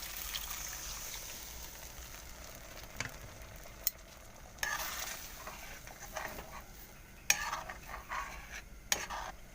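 Peas ghugni, an Assamese dish, being stirred in a pot, with scraping clinks of the spoon at intervals over a low simmering bubble. No voices are heard.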